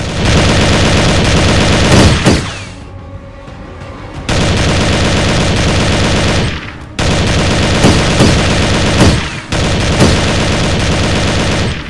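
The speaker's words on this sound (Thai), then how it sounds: "สาดกระสุนเข้าใส่ที่กำบังของพรานเที่ยงแบบไม่บรรยาบรรยัง" Loud, dense bursts of rapid gunfire fill the air, broken by short pauses before the shooting resumes in sustained volleys.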